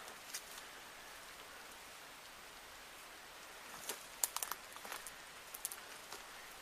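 Rain falls steadily outside an old stone house, a soft continuous hiss with scattered sharper drip and patter sounds growing more frequent toward the end, no voices.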